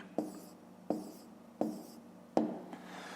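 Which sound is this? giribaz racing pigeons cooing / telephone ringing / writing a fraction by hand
writing a fraction by hand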